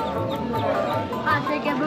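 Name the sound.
chickens clucking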